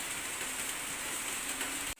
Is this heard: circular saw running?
no